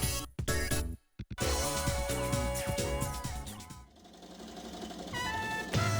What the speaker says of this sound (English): Bebe's sewing machine is humming pleasantly.